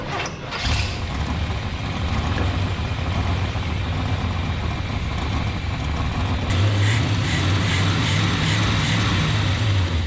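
A 1973 Chevrolet C10 big block V8 idles steadily for the whole stretch, a continuous low rumble up close that grows slightly louder and rougher near the end, with no talking.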